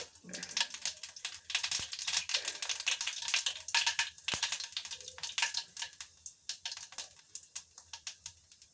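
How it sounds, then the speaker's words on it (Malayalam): Mustard and cumin seeds spluttering in hot oil crackle and pop densely and rapidly, a near, continuous patter of tiny sharp bursts that thins out toward the end. "കുറച്ച് ജീരകം കുറച്ച് കടുക് ഇടുന്നുണ്ട്"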